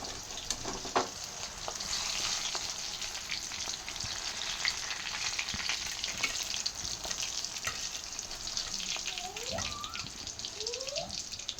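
Green chillies fry in hot oil with a dense, continuous sizzle close by, dotted with sharp pops and a couple of soft scraping stirs toward the end.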